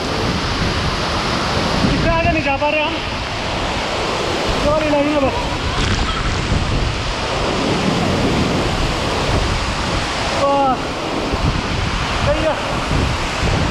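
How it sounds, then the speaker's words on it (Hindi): A loud, roaring rush of falling water and spray from the Badiyargarh waterfall fills the scene, with wind buffeting the microphone while people talk close by. "बस दोस्तों, यहाँ से पूरा पानी आ रहा है मुँह पे।"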